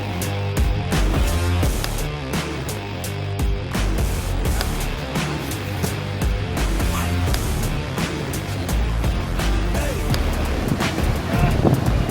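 Ocean surf and wind on a Bali surf beach roar as a dense, steady wash of breaking waves with buffeting wind noise on the microphone, loud and continuous throughout.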